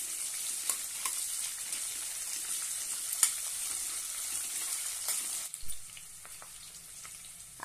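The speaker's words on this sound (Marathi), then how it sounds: "त्यामध्ये एक कांदा उभा चिरून घेतलेला आहे, तो घालूया। छानपैकी तेलामध्ये परतून घेऊया।" Vertically sliced onion frying in hot oil while being stirred, a steady bright sizzle with occasional stirring clicks, close and fairly quiet, no voices.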